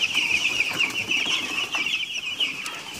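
Thirteen-day-old Ross 308 broiler chickens kept in a brooder peep and cluck continuously, a dense, high, chirping chorus from many birds close by, with no voices.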